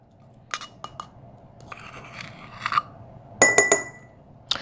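Dry ingredients for a keto chocolate mug cake, including baking powder, being mixed in a mug, giving a few sharp utensil clinks against the rim, with a cluster of louder taps near the end over a quiet background.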